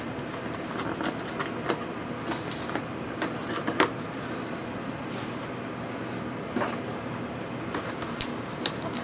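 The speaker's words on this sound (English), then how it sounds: "Here are Metzenbaum scissors." Metzenbaum scissors snip and crunch through a package in a series of sharp, irregular clicks over a steady rustling background, close and fairly quiet.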